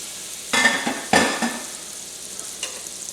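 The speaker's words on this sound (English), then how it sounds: "We're going to add our stick of butter." A stick of butter hits a large pot heated over medium-high heat, giving two sharp bursts of sizzle followed by a fainter, steady frying hiss, close and without talk.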